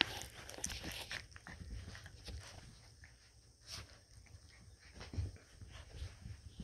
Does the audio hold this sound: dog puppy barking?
yes